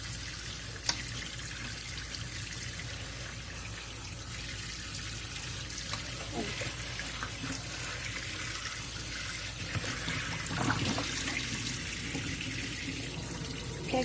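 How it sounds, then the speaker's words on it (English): A kitchen tap runs steadily as raw chicken is rinsed under it, a continuous close splashing hiss with small clatters of handling and no talk. "Okay, giving that a good rinse."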